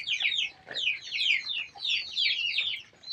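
A rain-soaked hen in a wet shed clucks in quick repeated bursts, close and fairly soft, with brief pauses between phrases.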